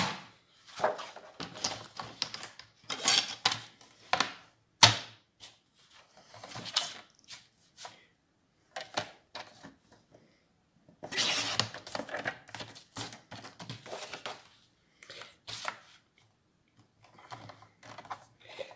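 Paper being cut with scissors for a small handmade envelope: scattered crisp snips and rustles in irregular bursts with quiet gaps, close but fairly soft, no voices.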